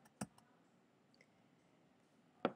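A return key on a computer keyboard is pressed twice, two sharp isolated clicks separated by a couple of seconds of near silence, faint and close.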